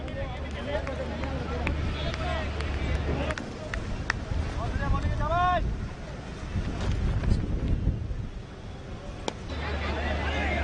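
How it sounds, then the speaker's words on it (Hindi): Strong wind buffeting the microphone at an outdoor cricket ground, a continuous rumbling gusty roar that swells and eases, with people talking and other voices mixed in. "खेल थोड़ा सा रुकता हुआ, काफी तेज हवाएं, और लेफ्ट हैंडर बल्लेबाज के लिए हवा बहुत ही एडवांटेज देने वाली है।"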